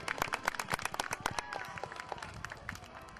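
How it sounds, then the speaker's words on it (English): Crowd at a tent pegging event at Audley End applauding a rider on the horse Black Pepper: a burst of scattered clapping, dense at first and then thinning out, with faint voices in the open air. "Give him a round of applause!"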